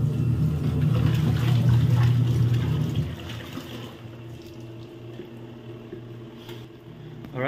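Water runs into a basin being filled for washing laundry, a steady close trickle and splash that is strongest at the start and then settles into a softer flow.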